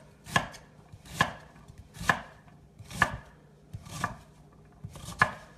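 A knife chops through vegetables on a cutting board in six sharp, evenly spaced strokes about a second apart, close and fairly loud, with no talking.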